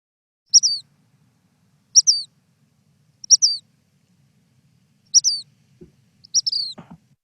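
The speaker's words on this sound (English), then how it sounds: "This is a black phoebe, another common backyard bird in San Diego." Black phoebe in a San Diego backyard giving five short, clear two-part chirps, evenly spaced about every second and a half against near silence, with a faint rustle at the end.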